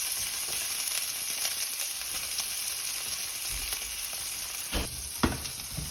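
A thin ribeye steak sears in a hot pan, giving a steady close hiss of fat and juices with a few soft knocks near the end, no voices.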